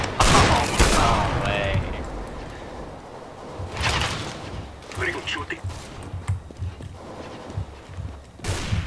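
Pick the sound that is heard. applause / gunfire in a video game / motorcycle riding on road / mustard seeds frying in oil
gunfire in a video game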